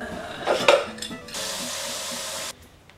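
Tap water pours for about a second into a container to make a hot water bath for extracting DNA from an onion, a steady rush that cuts off abruptly after a few light clinks and handling noises.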